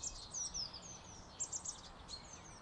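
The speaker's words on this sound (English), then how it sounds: "the only sound is the wind and bird song" Faint, high chirping birdsong comes in short bursts over a soft, breezy outdoor hush on Brown Clee hill in Shropshire.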